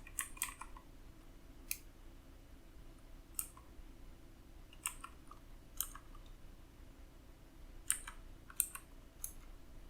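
Computer keyboard typing as Java code is entered: scattered bursts of key clicks, a few quick keystrokes at a time with pauses between, close and fairly quiet over a steady low room hum.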